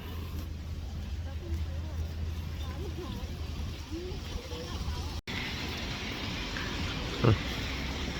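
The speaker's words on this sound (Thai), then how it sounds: "มาบรรยากาศฝนตก" Steady rain hisses over a street in Queenstown, with the low rumble of passing traffic and a brief splash-like thud near the end.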